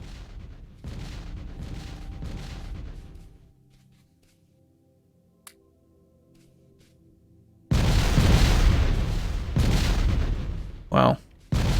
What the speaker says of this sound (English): all those rocket turret or rocket shooting speed upgrades we've been doing have helped out